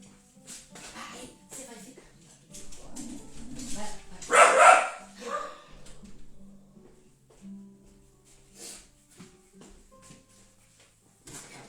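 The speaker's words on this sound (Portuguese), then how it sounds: "Só um minutinho que tem uma cachorra querendo sair." A female dog barks and whimpers indoors, wanting to go outside, with one louder burst of yelps standing out midway amid scattered softer sounds, while a person speaks intermittently around it.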